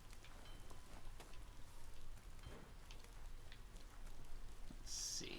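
Steady rain falls in the video game Biomutant, a soft continuous hiss of drops spread evenly across the scene, moderately faint and without speech.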